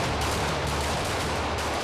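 Gunfire from police recruits at weapons training, a dense continuous crackle of shots that fills the whole stretch at steady loudness, close and unbroken.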